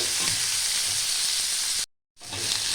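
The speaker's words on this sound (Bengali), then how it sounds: "আমি এখানে একটু নিয়েছি চিংড়ি মাছ, এটাও ভেজে নেব।" Prawns crackle in hot oil in a wok, a continuous close sizzle that cuts out abruptly for a moment before resuming just as strong.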